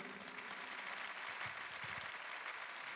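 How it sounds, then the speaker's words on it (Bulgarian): Steady applause from a wedding crowd, continuous and fairly dense, with no voices standing out. "Аплодисменти и за родителите на младоженците искам да чуя."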